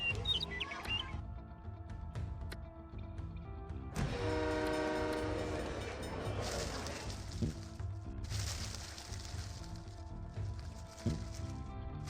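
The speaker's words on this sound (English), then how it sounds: "Right, train." Train in the SimCity 3000 video game, rumbling steadily throughout with loud sustained horn blasts sounding in the middle stretch, all without talk.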